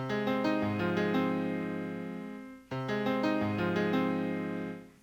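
A synth plays a low, pitched-down chord phrase with sharp attacks and slowly decaying sustain, repeated twice, alone and fairly loud.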